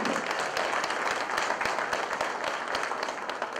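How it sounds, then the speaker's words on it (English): Guests at the St. Augustine High School homecoming gala fill the room with dense, even applause that continues at moderate volume without pause. "Give yourselves a round of applause this year"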